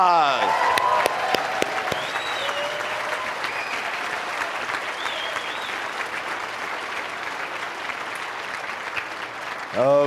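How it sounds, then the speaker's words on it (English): Sustained applause from a large seminar audience fills the room for about ten seconds, a broad even roar of clapping with a few voices faintly audible beneath it. "give yourself a big round of applause"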